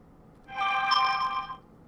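A phone ringtone plays for about one second, a bright steady electronic tone with layered harmonics, rising and fading against a quiet room.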